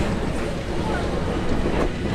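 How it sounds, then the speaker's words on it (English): A Space Mountain ride train at Magic Kingdom's Tomorrowland rushes past at night, a loud, steady broadband roar and rumble filling the brief moment. "Another train just went past us."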